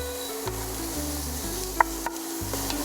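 Carrots, celery and garlic sautéing in a pan over medium heat give off a steady, moderate sizzle, with a few small clicks of a utensil and no voices.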